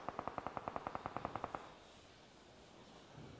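Rapid automatic gunfire in the battle royale game Peacekeeper Elite during a competitive 4v4v4 match, a burst of about fifteen evenly spaced shots over a second and a half, fairly faint and distant, followed by quiet ambience.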